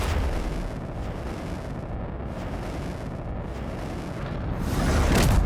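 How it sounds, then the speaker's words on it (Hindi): A nuclear bomb test explosion gives a broad, continuous roaring rumble like a long blast wave, steady and heavy throughout and surging louder toward the end. "कुछ देर बाद एक विस्फोट की आवाज आती है"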